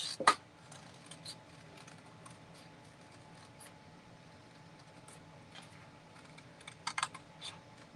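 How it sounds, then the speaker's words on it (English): Scissors snip out a piece for a pumpkin bobble head, sharp clicky cuts scattered at intervals with a louder snip at the start and a quick cluster near the end. "let's cut this out."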